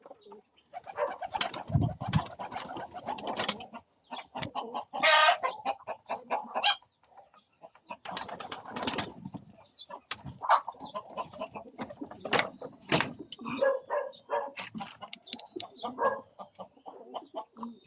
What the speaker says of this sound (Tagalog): Itong mga manok natin dito